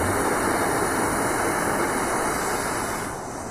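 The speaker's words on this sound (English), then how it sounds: "Once you hear the gas going, get a little ignition here, and there you go." Portable gas camping stove burner lit, a loud continuous roaring hiss of flame that holds steady, then eases slightly near the end, with no talk.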